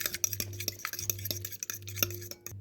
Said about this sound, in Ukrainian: Беру ось такий йогурт. Потрібно його 125 грамів. і перемішуємо з яйцем